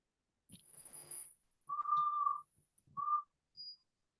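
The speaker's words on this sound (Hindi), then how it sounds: "ये सीटी कहाँ बज रही थी?" A shrill whistle blows in short separate bursts, one long and a couple brief, faint and in the background of an online mentoring class, with no talking over it.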